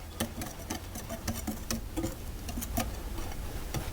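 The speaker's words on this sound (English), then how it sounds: "I'm going to put my zest in at the same time and mix that around." Dry pancake ingredients with citrus zest being stirred in a bowl, giving a steady patter of quick scraping and tapping clicks close by with no talking.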